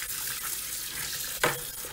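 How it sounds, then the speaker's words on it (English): Tap water running steadily over a slimy spa filter unit as it is rinsed in a sink, with a brief louder splash partway through. "give these a good rinse under some tap water"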